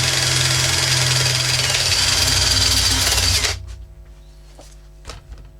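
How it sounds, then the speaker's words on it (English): A Relum Tornado wire brush spins on a drill at high speed without pressure against the workpiece, a harsh, steady whirring grind for several seconds, then stops abruptly, leaving quieter room sounds. "I've switched to the higher speed on the drill, but I'm not putting any pressure on the brush"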